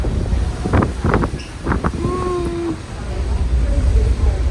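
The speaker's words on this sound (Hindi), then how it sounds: "ठंडी ठंडी हवा चल रही है" Cold wind buffets the microphone aboard a ferry near the Statue of Liberty in New York, a steady rushing roar throughout. A voice is heard briefly over it.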